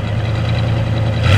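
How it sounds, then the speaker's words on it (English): A 1971 Plymouth Scamp's engine rumbles close by, holding a steady low idle and then swelling slightly as the throttle is blipped, alone without speech. "Let's give it a little rev."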